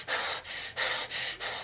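A voice imitates panicked, heavy breathing: five loud, rasping breaths in a steady in-out rhythm, close and alone.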